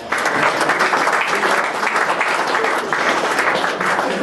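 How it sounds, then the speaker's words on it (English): An audience at an Otago rugby season launch breaks into a dense, steady round of applause that holds at full strength from start to finish, with no pauses. "Round of applause"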